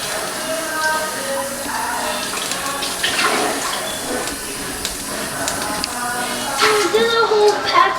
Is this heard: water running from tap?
yes